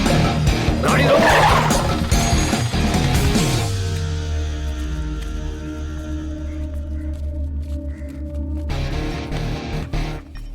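A car in a Hindi-dubbed South Indian action movie brakes hard to a stop with a loud, sustained tire squeal that fades into a steady low engine rumble and rises briefly again near the end.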